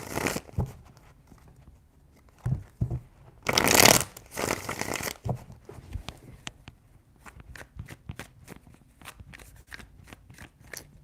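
Tarot cards are shuffled close up in soft papery riffles and slides, with one louder flurry near the middle followed by a steady string of quick card snaps, alone without talk.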